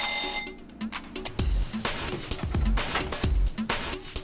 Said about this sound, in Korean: 작업 시간을 알리는 소리에 배 위로 올라오는 선원들.